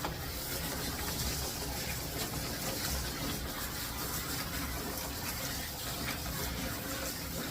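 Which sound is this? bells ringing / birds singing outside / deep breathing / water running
water running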